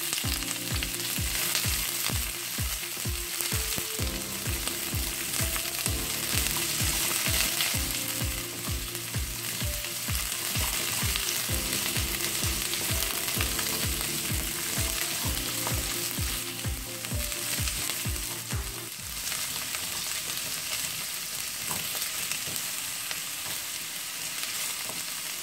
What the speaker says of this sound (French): j'ai fait revenir mes carottes environ 10 minutes